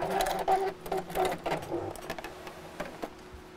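Sewing machine stitching fabric pieces for a biscornu pin cushion, a quiet close mechanical whir with rapid rhythmic needle chatter that starts and stops in short runs.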